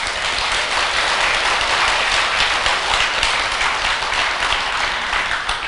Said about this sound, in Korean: 박수 한번 보내줘